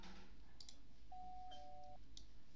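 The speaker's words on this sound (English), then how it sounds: "I rang the doorbell, there we go." A faint two-tone electronic doorbell chime in Roblox Brookhaven sounds once over quiet background noise, thin and synthetic.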